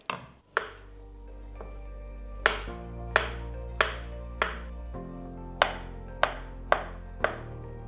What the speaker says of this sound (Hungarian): és akkor aprítom, kockázom, amennyire gondolom